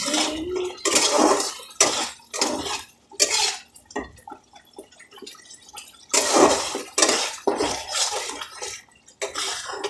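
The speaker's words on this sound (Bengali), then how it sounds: "মশলাটা অনেক ছিট পাচ্ছে" Spicy masala paste frying in a hot pan in a home kitchen, spitting and spattering in loud, hissing bursts that come and go, with a quieter stretch in the middle before the sizzling swells again.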